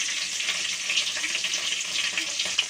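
Chopped green chillies and tomatoes frying with curry leaves for tomato chutney, a steady bright hiss of sizzling oil, close and continuous with faint stirring, no voices.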